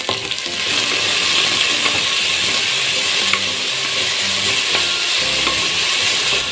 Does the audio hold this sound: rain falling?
no